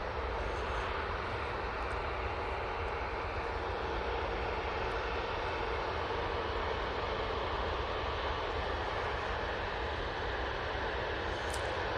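An easyJet airliner at Manchester Airport roars as a steady, broad wash of engine noise, continuous and even for the whole stretch with no voices over it.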